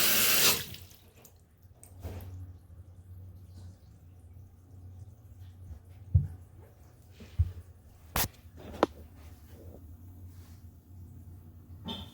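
Water drains slowly from an IKEA sink, a quiet trickling gurgle with a few louder drips and clunks scattered over the stretch, following a brief burst of running water at the start.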